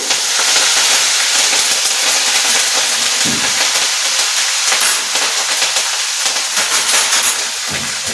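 Curry leaves sizzling in hot oil for a home-cooked tempering, a loud, steady, bright crackling hiss that fills the whole stretch with small pops scattered through it.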